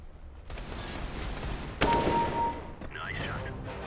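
Gunfire bursts in the video game Counter-Strike: Global Offensive, a steady spray of shots building to a loud volley midway, with game effects and a voice under the shooting.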